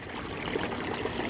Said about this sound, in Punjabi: ਧਰਤੀ 'ਚ ਨਾ ਗਰਮ ਪਾਣੀ ਨਿਕਲ ਰਿਹਾ